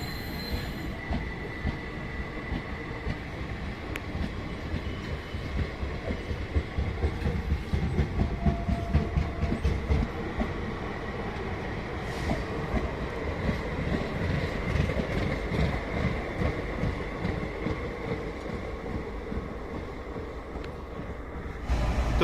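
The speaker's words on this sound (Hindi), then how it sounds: "और अपना लोकोमोटिव भी चला गया है आगे लगने।" A railway locomotive rolls along the track at a station, moving off to couple onto a train: a steady, close rumble of wheels on rails with metallic squeal and clatter throughout, no voices.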